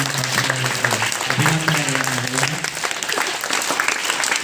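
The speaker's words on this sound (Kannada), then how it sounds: "ಶ್ರೀಮತಿ ಶೋಭಾ ಪಾಟೀಲ್ ಮೇಡಮ್ ಅವರಿಗೆ ಇನ್ನೊಂದು ಜೋರಾದ ಚಪ್ಪಾಳೆ ತಟ್ಟುವ" A crowd claps loudly and steadily for several seconds at a Children's Day school event, dense applause with some voices heard faintly underneath.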